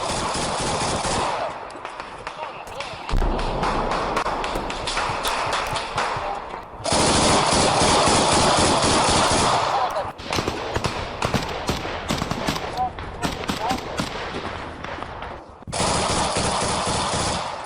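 Gunfire in an attack on Ukrainian army trenches: long rattling machine-gun bursts and sharp repeated shots, loud and close, coming in sustained volleys broken by brief lulls.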